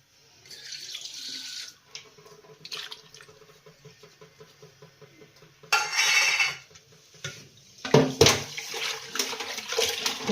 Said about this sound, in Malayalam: അതിലേക്ക് ശകലം മാവ് പൊടിയും ഉപ്പുകല്ലും കൂടിയിട്ടാണ് ഇത് കഴുകിയെടുക്കുന്നത്